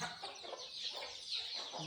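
Village chickens and their chicks at a roosting spot on a small chicken farm cluck steadily and close by, with several birds overlapping in a continuous, busy chatter and no talking.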